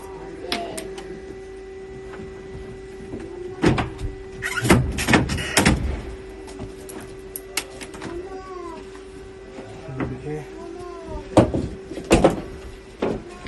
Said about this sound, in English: As you can see, we're riveting.